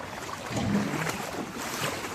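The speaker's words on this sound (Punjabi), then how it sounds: "ਆਹ ਪਾਣੀ ਕਿੱਦਾਂ ਚੱਲਦਾ ਦੇਖੋ" Ankle-deep floodwater rushes through the lanes and past houses of Barian Kalan village in a steady, full broadband wash with slight gusty swells, fairly close and loud.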